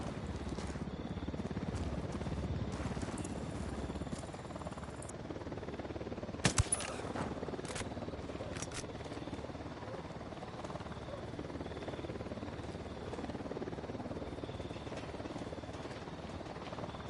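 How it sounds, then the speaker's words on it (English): A helicopter in the Ghost Recon video game drones steadily in the background, a low continuous rotor rumble with a brief sharp burst of gunfire-like cracks partway through. "Hit the dirt, helicopter."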